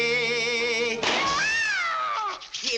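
A 1941 Porky Pig cartoon cat lets out a loud, wavering caterwaul that rises and bends for about two seconds, following a steady sung note with no spoken words over it.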